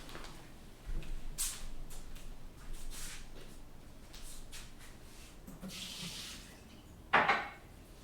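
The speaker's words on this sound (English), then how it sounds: "We did our adventure tea for tonight, and I'm going to pour it out now." Tea is poured out into a sink: quiet splashing water, scattered clinks of a cup and dishes, and one sharper clatter near the end, all close and fairly soft. No one speaks.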